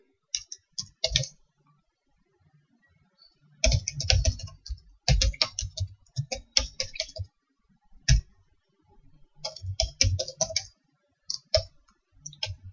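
A computer keyboard clatters as a command is typed in quick close bursts of keystrokes, separated by short pauses.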